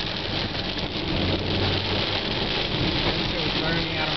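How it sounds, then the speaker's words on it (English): A heavy downpour drums on surfaces at a marina, a steady loud wash of rain noise with a low idling car engine hum beneath, while a voice speaks briefly over it. "It is fucking wet."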